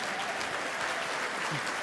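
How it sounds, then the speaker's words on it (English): Conference audience applause for a New Educator Network presentation, a brief, even wash of many hands clapping, moderately distant and without speech. "Give them a big round of applause, please,"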